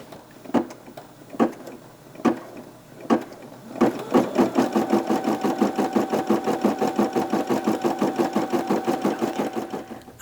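A sewing machine stitches a trick-or-treat bag, opening with several separate single stitches and then running into a fast, even, continuous stitching rhythm close to the listener.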